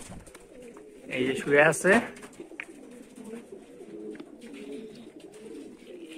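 Pigeons resting in the sun to dry their bodies after a bath coo softly in a short cluster of low calls, while someone talks nearby over quiet background ambience.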